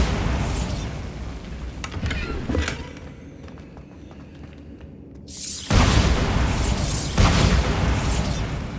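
Bombarda blasting spell explosion in Hogwarts Legacy: loud booming blasts with crumbling debris, a lull and near-silence before a heavy burst at about five and a half seconds, then another impact moments later.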